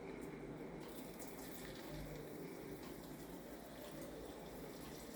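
Chopped onions frying in hot oil in a pan for a samosa filling, a steady, close hiss of sizzling that carries on without a break, with no talking.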